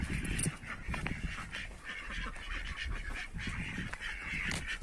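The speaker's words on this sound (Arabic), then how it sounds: "عندي ده البط اهو ما شاء الله" Ducks quacking on a farm, a scattered flock calling in short repeated quacks and honks at moderate distance, with a faint voice in the background.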